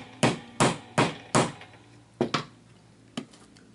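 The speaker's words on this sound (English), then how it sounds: "I always use my little hammer." A small hammer taps a piece into a resin dominoes storage box: six sharp, close knocks, four evenly spaced, then a quick double, and one lighter tap after a pause.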